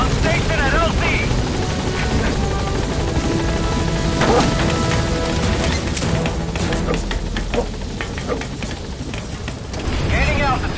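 A military transport helicopter in Metal Gear Solid V arrives at a landing zone, its loud, steady rotor roar filling the scene up close. Scattered impacts and clatter from gameplay sound over it, and a radio voice talks across the noise.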